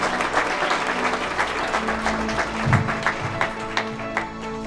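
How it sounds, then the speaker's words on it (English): Applause from an audience at a school ceremony honouring students, steady close clapping from many hands lasting throughout, with a low hum and faint crowd sounds underneath. "Now please go ahead and give another round of applause for Angela Flora."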